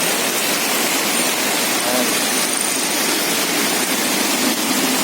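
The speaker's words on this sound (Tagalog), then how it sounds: "Napakalakas ng ulan po." Heavy rain pours in a dense, continuous roar, loud and steady from start to finish.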